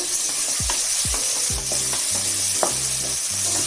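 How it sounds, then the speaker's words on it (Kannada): Green chillies fry and sizzle in a pan on medium flame while a spoon stirs them, with several sharp scraping strokes over a steady close hiss and no talking. "ಒಂದು 2 ನಿಮಿಷ ಚೆನ್ನಾಗಿ ಉಟ್ಕೋಬೇಕು ಮೀಡಿಯಮ್ ಫ್ಲೇಮಲ್ಲಿ."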